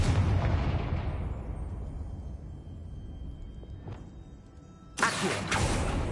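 A Confringo blasting spell explodes in Hogwarts Legacy with a loud, booming burst that decays into a long rumbling tail, followed by a second sharp blast near the end.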